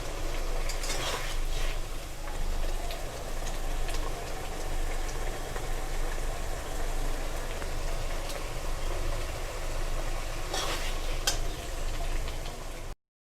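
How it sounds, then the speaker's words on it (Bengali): Masala paste stir-fried in oil for a taro (kochu) dum, a steady dense sizzle with scraping stir strokes running continuously at close range, no voices. "এটা এখন ভালো করে তেল ছাড়া পর্যন্ত কষাতে হবে।"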